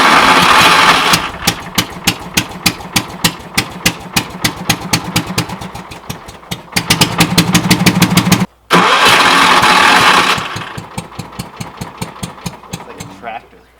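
A vintage three-wheeler's small engine cranks and sputters into a loud, rhythmic chugging, briefly cuts out, then catches again and keeps running unevenly.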